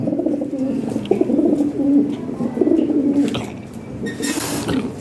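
Close, loud cooing of black Lahori pigeons rolls on in soft throaty bursts, with a couple of faint chirps and rustles near the end.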